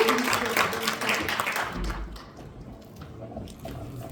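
Applause from a seminar audience welcoming a well-dying lecturer at a talk on empathetic communication, dense broadband clapping for about two seconds that then fades out.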